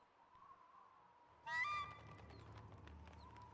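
A bird honks in the video game Myst III: Exile, a single loud goose-like call lasting about half a second over a steady low hum, followed by quieter game ambience.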